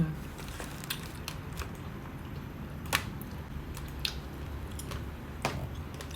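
Crunchy skin of boiled chicken, served with fish sauce, being chewed close to the mic, giving soft squishy bites with scattered crisp crackles over a steady low background hum and no talking.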